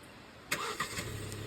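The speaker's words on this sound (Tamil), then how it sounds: "கார் பார்த்தீங்கன்னா ஸ்டார்ட் ஆகிடுச்சு" A Kia Carens engine starts by smart-key remote start: a short crank and catch, then a low steady idle, heard alone at a moderate distance.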